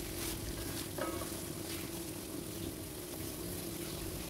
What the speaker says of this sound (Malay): Kacau-kacau sehingga sebati.